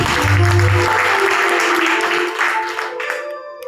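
Church congregation applauding after a prayer, a dense sustained wash of clapping from many hands that fills the space and fades toward the end, with a low musical hum underneath.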